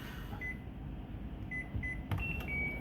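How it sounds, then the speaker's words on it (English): A microwave oven with a failed light beeps as the cooking time is keyed in, several short high electronic beeps over a low steady hum. "Sometimes when you hit the cooking time, it actually makes a beep."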